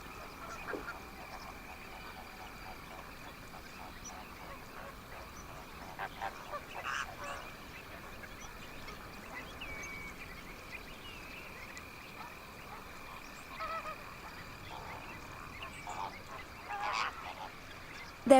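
Flamingos honk faintly in the distance, with scattered goose-like calls rising at irregular intervals over a quiet outdoor background.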